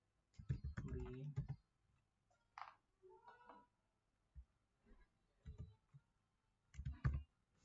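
Clicks of a computer keyboard as Verilog code is typed for a 4-bit register design in Xilinx Vivado, short bursts of keystrokes separated by pauses, with someone speaking in between.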